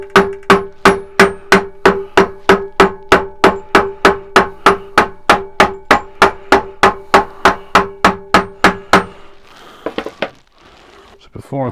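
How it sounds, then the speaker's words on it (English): Hammer gently tapping a drive pulley into place while replacing the drive belt and bearings on an Axminster AT406WL / AT1628VS lathe: about twenty-five steady, evenly spaced close taps, then a few scattered knocks and handling noises. "So I'm just going to gently tap it in."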